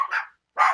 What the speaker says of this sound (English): I don't know what the hell you're barking at.